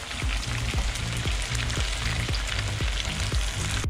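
Fish frying in a hot pan, giving a steady loud sizzle dotted with regular popping crackles and spits, close up and with no talking.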